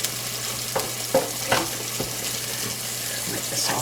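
Beef juices drain from a pan in a steady liquid sizzle and trickle, with a few light clinks and scrapes of the pan scattered through it, close by.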